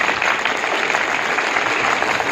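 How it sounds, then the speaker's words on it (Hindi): An audience at a speech event breaks into loud, dense, continuous clapping that fills the whole short stretch, close and even, with no voices heard over it. "चलिए इस बात पे एक बार जोरदार तालियां जरूर बजाते हैं।"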